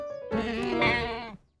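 One drawn-out cartoon goat bleat, loud and near, wavering steadily for about a second before cutting off into silence.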